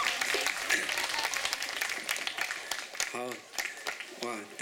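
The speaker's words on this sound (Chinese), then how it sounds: "你们掌声之后都很冷静的" An audience at a live concert in an intimate music venue claps in a dense, loud burst of applause that thins out, followed by a voice speaking over the fading claps.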